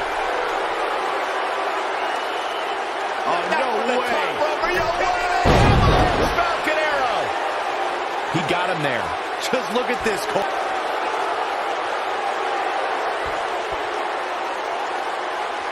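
A raucous wrestling crowd in Philadelphia roars steadily under close commentator talk, with a loud slam-like thud and a surge of cheering partway through, then a constant wash of crowd noise.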